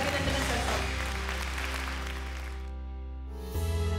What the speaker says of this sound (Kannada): ಈಕೆಗೆ ಒಂದು ದೊಡ್ಡ ಚಪ್ಪಾಳೆಯ ಮೂಲಕ ನಾವೆಲ್ಲರೂ ಅವಳಿಗೆ ಅಭಿನಂದನೆ